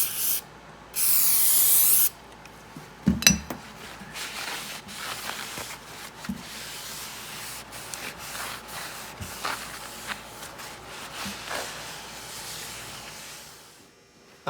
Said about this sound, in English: we're just using our cleaner and rag